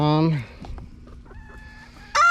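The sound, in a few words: chickens clucking and rooster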